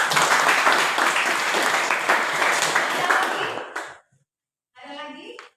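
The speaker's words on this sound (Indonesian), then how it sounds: "Kita aplaus dulu untuk teman kita." Classroom applause for a student after a presentation on Archimedes' law and buoyancy, loud steady clapping from many hands for about four seconds, then cutting off before a short spoken phrase.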